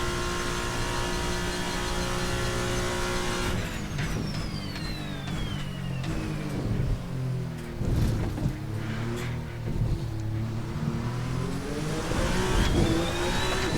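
A Toyota TS050 race car engine in the driving game Assetto Corsa revs hard and climbs through the gears, pitch sweeping up and dropping repeatedly across the lap, loud and continuous with no voices.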